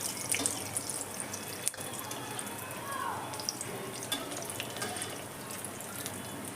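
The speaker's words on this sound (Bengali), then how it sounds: "এবার একে একে ব্রেড রোলগুলো আমি ছেড়ে দেবো, খুব হালকা হাতেই ভেজে নেবো" Cheese-stuffed bread rolls sizzle in a little hot oil, a steady close hiss with faint crackles and occasional small pops, while a voice speaks briefly.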